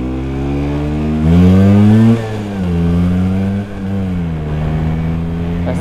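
Vespa PX scooter fitted with a Polini kit engine, heard while riding: a loud, close two-stroke engine revs up, shifts and pulls steadily through the gears with clear harmonic drone.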